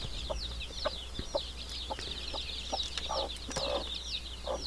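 Chickens on a Filipino farm with chicks in new nests, a hen clucking in short repeated bursts nearby over shrill chick peeping, with a low hum underneath.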